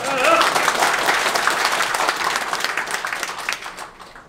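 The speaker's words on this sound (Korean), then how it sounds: "우리 이문열 선생님 박수 한번" Audience applause for novelist Yi Mun-yeol at a Korean political rally, a dense crowd of clapping that holds steady and loud, then thins and fades toward the end, with a voice faintly underneath.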